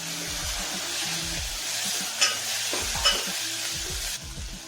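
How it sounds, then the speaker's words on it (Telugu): Tomatoes fry and get stirred in a pan for ridge gourd curry, a steady close sizzle with a couple of sharp spoon clinks against the pan before the hiss drops off near the end. "టమాటా వేసుకోవాలి. ఒక 2 టమాటాలు అయితే సరిపోతుంది."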